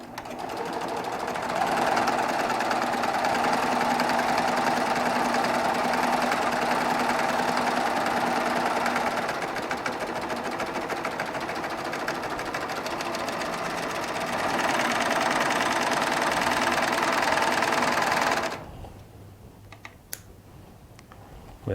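A Baby Lock Triumph serger stitches with decorative 12 weight rayon accent thread, a fast continuous mechanical chatter running for about eighteen seconds before stopping abruptly into quiet.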